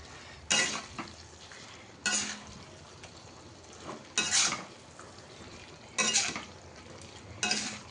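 Pointed gourd (potol) being stirred in a heavy kadai with spices, a low fry under five sharp metallic scrapes of the spoon against the pan at a steady, unhurried pace.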